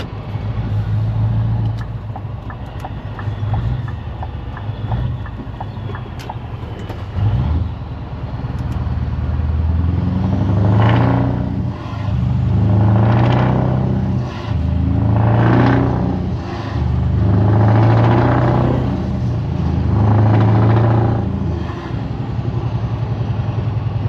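A Scania R500 V8 truck with a loud exhaust rumbles while driving, first a steady low idle-like drone, then a series of deep surging pulls as the engine revs up and eases off repeatedly, heard close and with no talk.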